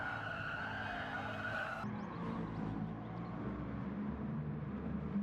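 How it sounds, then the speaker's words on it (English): Race cars in the Gran Turismo Sport video game sweep through a turn on a circuit, engines droning and tires scrubbing in a continuous loud blend of motor noise and skidding with no pause. "just coming through turn 2, still running in 4th place and just trying to close the gap on King Lou"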